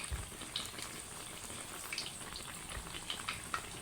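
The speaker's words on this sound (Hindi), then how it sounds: "नान की साइड पलट देंगे, दूसरी साइड से भी अच्छे से क्रंची होने तक पकाएंगे और लाइट गोल्डन ब्राउन होने तक।" An aloo besan naan made with potato and gram flour cooks in a pan, giving a soft continuous sizzle and crackle with faint scattered pops, steady and moderately close, with no talking.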